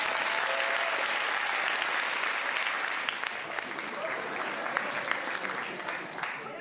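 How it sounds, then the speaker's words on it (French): A comedy show audience claps warmly and steadily for a woman named Chloé, a continuous round of applause from the whole room lasting several seconds, with faint voices mixed in beneath it. "On applaudit Chloé, les amis, s'il vous plaît."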